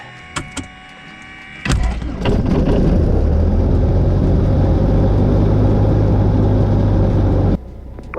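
A Cessna's propeller engine starting with a few clicks and a cranking catch before roaring into a loud, steady close-up run that holds for several seconds, then drops back in level near the end.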